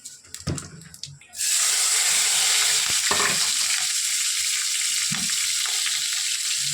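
Nigella seeds drop into hot oil and set off a loud, steady sizzle that fills the rest of the clip after a short stretch of quieter clatter, with a few utensil knocks over the frying.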